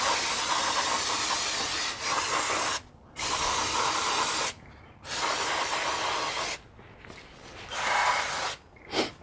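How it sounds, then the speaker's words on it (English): Bursts of aerosol brake cleaner hiss onto the brake shoes of a Ford Crown Victoria during a brake job, several loud sustained sprays separated by short pauses, close by with no talking. "I'm gonna go ahead and give this a clean with some brake cleaner"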